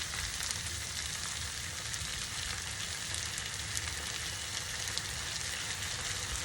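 Ground tomato puree sizzles steadily in a hot pan, a dense, even crackling hiss at moderate volume that holds without pause.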